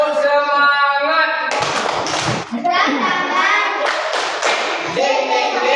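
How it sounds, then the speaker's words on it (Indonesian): A classroom of children does a rhythmic cheer clap, chanting loudly in unison and punctuating the chant with bursts of sharp group handclaps close to the microphone. "Tepuk semangat."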